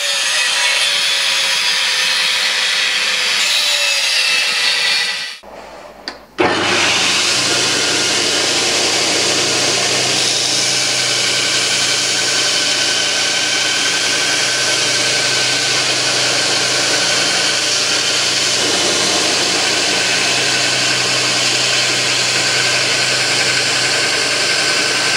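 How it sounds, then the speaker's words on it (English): A power tool cutting and grinding a steel knife blank to its profile, a steady loud abrasive whine that cuts out briefly and then resumes, running continuously with no talking. "Proceed to cut out the profile and grind it to its final shape."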